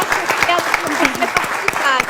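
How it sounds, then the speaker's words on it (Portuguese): Studio audience on a Portuguese RTP television show applauds steadily for about two seconds, dense clapping under overlapping voices of the hosts and guests. "uma salva de palmas para si"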